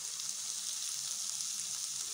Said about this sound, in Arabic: صافي هنا ملي تحرات ليا البصله، هنا غادي نضيف واحد جوج معالق ديال الصوجة.